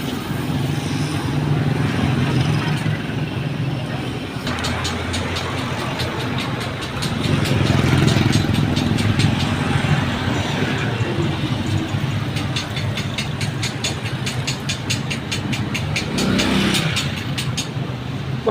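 A Yamma 7hp air-cooled diesel engine runs at a steady, rough, rattling idle nearby, with a rapid knocking pulse and occasional swells in loudness.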